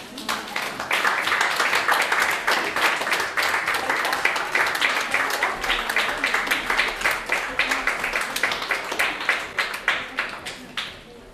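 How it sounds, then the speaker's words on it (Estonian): An audience claps together in long, steady applause with a fairly even rhythm, some hands falling into a quick beat, continuing at a constant level for over ten seconds before easing slightly at the end. "Juba sellepärast võiks teha taas ühe aplausi."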